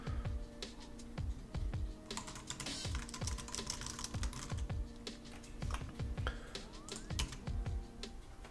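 Steady, close typing on a computer keyboard, with quick clustered keystrokes and brief pauses throughout, no voices, while entering text in Adobe Photoshop CC.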